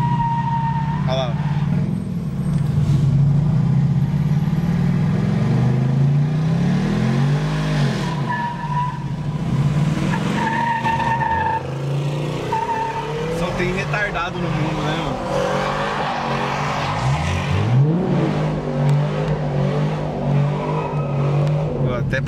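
A Ford Mustang and an Audi TT race each other, loud engines revving and roaring with rising and falling pitch sweeps and tire noise, continuous and close, with people talking over them.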